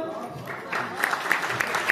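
An audience at a patriotic Hindi poetry recital claps, the applause swelling partway through with scattered louder claps beneath ongoing noise.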